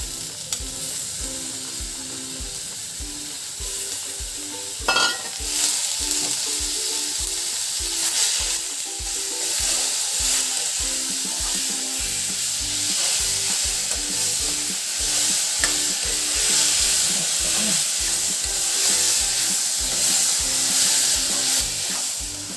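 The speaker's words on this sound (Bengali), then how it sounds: "এগুলো পেঁয়াজ লঙ্কা এগুলো ভাজা হয়ে গেছে। এবার দিচ্ছি টমেটো।" Onion, chilli and tomato frying in a pan, with loud continuous sizzling and a rhythmic scrape of stirring throughout, close up and with no voices.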